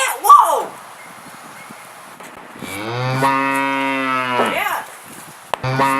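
A cartoon cow in the video game Sound Town 2 gives one long, loud, tonal moo that swells and fades over about two seconds, with excited voices talking around it.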